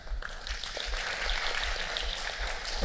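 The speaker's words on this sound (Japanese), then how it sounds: "拍手をお願いします" Audience at a Ruby programming talk applauding, a moderate patter of many hands clapping heard from a distance in a hall, steady for a few seconds.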